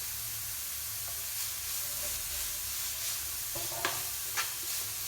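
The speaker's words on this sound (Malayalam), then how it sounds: "എന്നിട്ട് നന്നായിട്ട് മിക്സ് ചെയ്ത് ഉള്ളിക്കൊരു ബ്രൗൺ കളറാകുന്ന വരെ നമുക്കിങ്ങനെ വഴറ്റിയെടുക്കാം" Onions with green chilli and curry leaves sauté in a pan with a steady soft sizzle, with a few light clinks and scrapes of stirring near the end.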